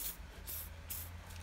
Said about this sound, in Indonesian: Setelah kita semprot pelumas, kemudian ini kita buka.